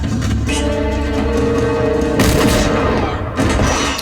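Gunfire from a firefight in the TV show Firefly, episode The Train Job. Loud, dense bursts of shots and booms crash over a steady music score, with a sharp blast near the middle and another near the end.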